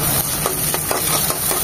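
Chopped garlic and onion fry in hot oil, a loud, continuous close sizzle with light stirring taps and scrapes over a short stretch, no talking.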